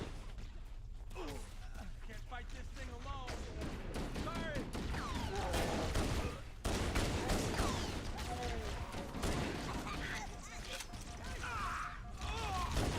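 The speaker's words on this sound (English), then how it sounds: "Seriously, stop shooting at them, you stupid dropship." Repeated gunfire from an enemy dropship in Halo: Combat Evolved Anniversary, heard amid a dense, busy battle mix of explosions and alien chatter, steady and loud throughout without a clear break.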